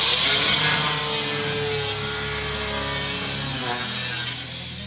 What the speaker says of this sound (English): We're going to cut that off just so it's not in there to cut anybody.